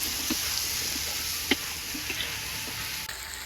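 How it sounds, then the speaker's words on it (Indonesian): Pokak turkey berries fry in a pan with a steady low sizzle and crackle, broken by a few sharp pops and a brighter tick near the middle, close and without voices. "Pokake digoreng lor"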